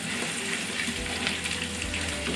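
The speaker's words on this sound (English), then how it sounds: "we're gonna let that stir fry a bit more" Chicken stroganoff sizzles and fries in a pan as a steady, close hiss of bubbling fat and cream, fairly quiet and continuous with no voices.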